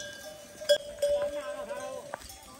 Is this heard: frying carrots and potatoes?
no